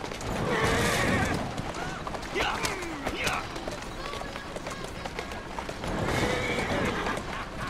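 Galloping hooves and repeated whinnies from a horse in Assassin's Creed Syndicate, loud and close with constant street clatter, two stronger neighing bursts near the start and end, while someone speaks over it.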